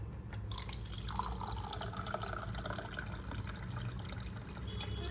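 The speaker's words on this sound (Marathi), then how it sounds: "मी हिला माठातलं पाणी देते," Water poured from a clay pot in a home setting, a faint, steady trickle and splash running continuously at low level.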